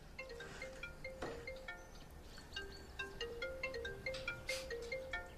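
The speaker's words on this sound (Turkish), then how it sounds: "Aras Bey, bakar mısınız o telefona?" A phone ringtone plays as a repeating electronic melody of bright, beeping tones, fairly faint and steady throughout with no talk over it.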